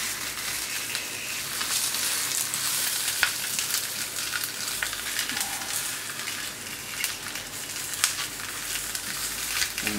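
Chinese cabbage sizzling on a hot plancha griddle: steady, close frying hiss with scattered crackles and pops throughout, and no talking.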